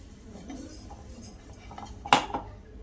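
Ground spice masala for traditional mango pickle being moved into a mixer jar, with quiet scraping and a sharp metal clink of a utensil against the jar near the end.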